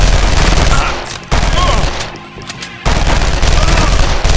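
Rapid gunfire in a 2003 PC video game: loud, dense bursts of shooting that cut out briefly, leave a quieter ambient gap, then resume at full intensity.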